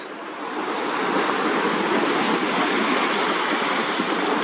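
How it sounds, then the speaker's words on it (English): Ocean chop breaks and washes in steadily, a dense roaring hiss of surf that swells in over the first second and then holds loud and continuous, with wind noise mixed in. "this is a chop coming in now"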